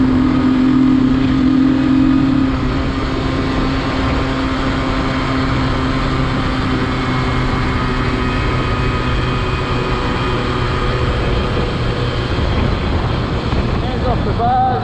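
A Suzuki GT50 small two-stroke motorcycle rides on the road at speed, its engine droning steadily under heavy wind rush for the whole stretch.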